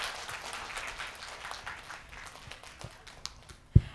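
Audience applause at an informal gathering, a steady dense patter of many hands clapping moderately loud throughout, ending with one sharp louder clap.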